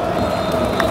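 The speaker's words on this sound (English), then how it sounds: "Huge applause, rightfully, because Bordeaux leads against Lille." Stadium crowd applauding and cheering at the end of the first half of a Bordeaux versus Lille football match, a continuous dense roar of clapping and voices filling the whole moment.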